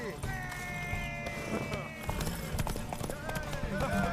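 Horse hooves clip-clop in a quick, steady rhythm in the video game The Witcher 3, beneath talking voices and some musical tones, the footfalls fairly close.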